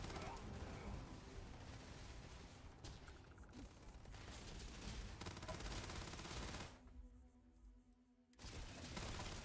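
Gunfire in the video game Starfield played on an MSI Vector GP68 HX laptop with RTX 4080, rapid volleys of shots over busy game sound, a short lull near the end, with talking heard.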